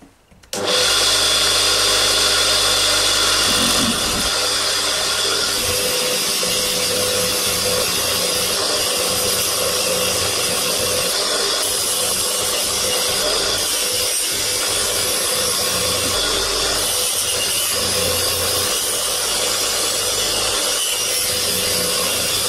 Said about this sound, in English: So all we do is we spin it up, apply a bit of the compound, and then give it a polish.